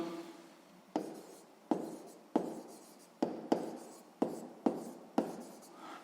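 A pen writes out a sixth-grade maths exercise on paper in a series of about nine sharp strokes, each starting with a tap and trailing off into a soft scratch, close and quiet.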